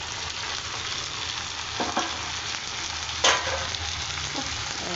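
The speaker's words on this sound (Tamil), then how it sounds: "இப்போ இந்த தக்காளியை போட்டுக்கலாம், போட்டு சேர்த்து வதக்கலாம்." Tomatoes sautéing in a pan with onion and curry leaves for tomato chutney, giving a steady soft sizzle with a couple of brief stirring scrapes.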